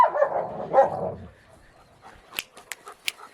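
A farm dog barking near a rabbit tractor and garden, two or three deep barks at the start, then quieter panting and a few sharp clicks, fairly close by.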